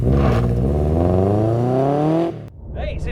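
Subaru Impreza van built for time attack revs hard, engine note climbing steadily in pitch for a couple of seconds before cutting off abruptly, close and loud.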